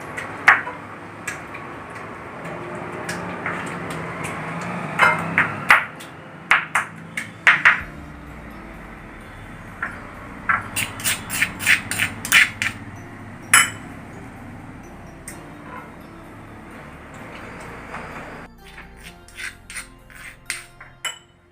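Repeated sharp pings and clinks of roasted tomatoes being crushed with a utensil in a metal vessel for chutney, uneven taps in bursts, close and fairly loud with no voices.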